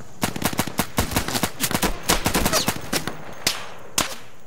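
Rapid bursts of automatic gunfire and single shots from the tactical shooter game Insurgency, loud and close, in uneven volleys over about four seconds with brief gaps, no talk.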